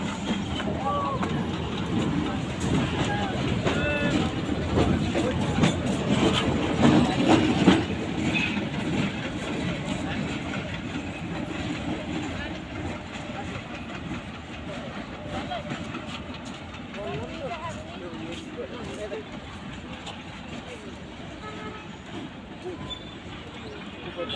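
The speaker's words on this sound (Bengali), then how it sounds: "লাস্টে কিন্তু একটি ইঞ্জিন নিয়ে যাওয়া হচ্ছে ট্রেনে করে" A train passing through Rajbari railway station, hauling a locomotive at the rear, rumbles along with clattering wagons that peak early and then fade slowly, while people talk nearby.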